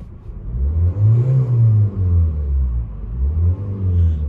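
Steady low engine drone inside the cabin of a Ford Tourneo Courier Journey Titanium with 1.5 TDCi diesel held near 2000 rpm, radio off; a continuous mid-loud hum with gentle rises and falls, no talking.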